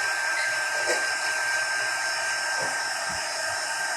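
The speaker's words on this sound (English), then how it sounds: "Okay, so let's dry that up." A hair dryer blows steadily at close range to dry paint on a Santa bust, a loud, unbroken whooshing roar with a faint motor whine throughout.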